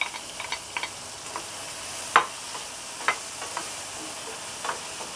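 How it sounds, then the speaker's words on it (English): Chopped onion browning in melted butter in a pan, a soft steady sizzle broken by sparse ticks and scrapes of stirring, close and fairly quiet. "First thing, we have to brown this onion."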